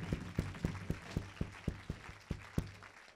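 Church congregation clapping in a steady rhythmic beat during a French-language worship night in Paris, about a dozen sharp claps over a low held musical tone, moderately distant.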